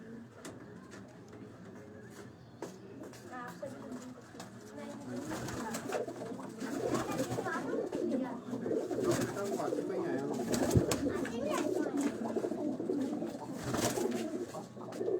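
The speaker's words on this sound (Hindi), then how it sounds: "अली भाई के जो ब्रीडर कबूतर हैं" Breeder pigeons in a Lahore loft coo steadily in a dense, close chorus, with soft flutters and occasional bumps, while someone talks faintly in the background.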